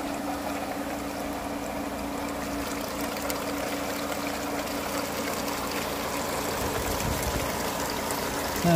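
Water running steadily through a Gold Turbine super sluice during gold processing, a continuous rushing, trickling flow with no talk over it.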